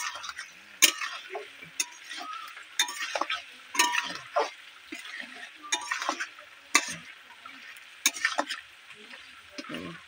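Fish and potatoes frying in oil over a wood fire, a steady close sizzle broken by repeated sharp scrapes and clinks of a utensil stirring in the pan, with no talk.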